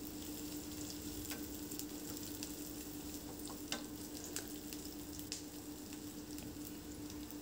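Chopped onions frying in mustard oil in a pan on the stove, giving a steady, even sizzle with occasional soft clicks and crackles, no voices.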